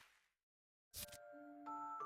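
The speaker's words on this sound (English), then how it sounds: "The bell rang." In the Professor Layton and the Miracle Mask video game, a bell rings after a sharp struck hit, leaving clear sustained chime tones that ring on and layer as further notes join, faint and alone.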